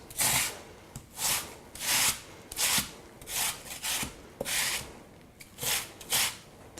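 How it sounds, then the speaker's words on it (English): A Granny Smith apple rubbed against a grater in steady rhythmic strokes, about nine close, raspy scraping passes with short pauses between, no voices. "So you should have about a cup once the apple is grated."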